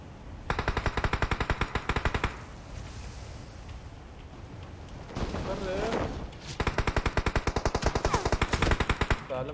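Automatic gunfire in the PUBG Mobile battle royale game, two long rapid bursts separated by a quieter gap with brief talk, loud and close.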